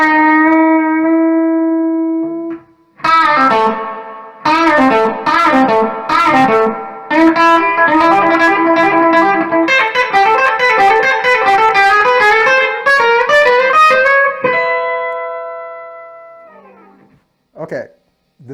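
An electric guitar with no pedals plays through a Marshall SV20H amp, opening with a sustained note, then running a riff with string bends and firm pick attack, and ending with a ringing decay and a few final plucks.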